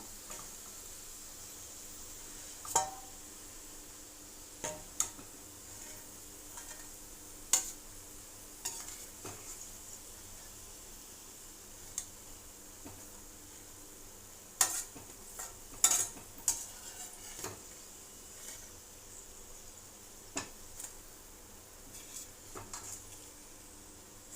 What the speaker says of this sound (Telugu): ఇది బాగా వేగనిద్దాం ఇలా ఫ్రై అయితే సరిపోతుందండి